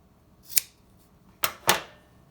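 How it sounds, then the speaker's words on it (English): Three sharp, brief snips of scissors cutting paracord, one then a pause and two close together, crisp and near in a quiet room. "I'm gonna cut this end. I'm gonna use my scissors."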